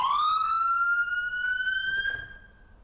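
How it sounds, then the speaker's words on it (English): A police car siren wails close and loud in a single rising sweep that levels off and then fades as it cuts out. "while the siren is going off, once you throw it into park, the siren will kill itself."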